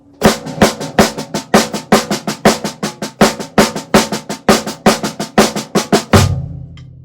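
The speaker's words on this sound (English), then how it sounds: "So when I put the hi-hat on all quarter notes and combine them, it sounds like this." A drum kit plays a steady groove with hi-hat on quarter notes, close and loud, with dense rhythmic hits throughout, ending on a ringing crash-like accent that sustains and fades.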